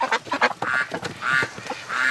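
Pekin ducks quack loudly inside a barn in a string of harsh, overlapping calls, some short and clipped and others drawn out, close and clear with no talking.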